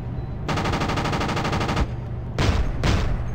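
Automatic gunfire in the Project Reality military game: a sustained rapid burst of machine-gun fire, then two shorter bursts after a brief pause, loud and close.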